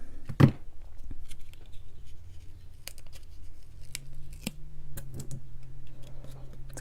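Scissors snip through a paper cake topper, one clear sharp cut followed by faint scattered ticks and soft handling noises in a quiet room.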